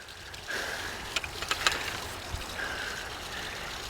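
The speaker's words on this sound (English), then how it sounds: "A little waterfall." Steady rushing and trickling water from a small waterfall, with a few faint knocks and clicks over the flow.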